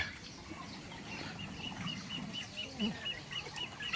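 Hens clucking on a small farm in Laos where rabbits, ducks and chickens are kept together, soft intermittent calls under steady outdoor background noise with people talking nearby.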